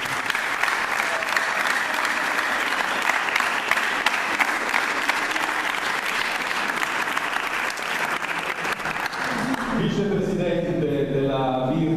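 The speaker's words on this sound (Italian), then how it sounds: "a partire dal grosso applauso che vogliamo riservare al presidente Vincenzo Ginepro" Audience applause for the president of the Virtus Fondi club at its presentation, a long, dense round of clapping that carries on for nearly ten seconds before giving way to music.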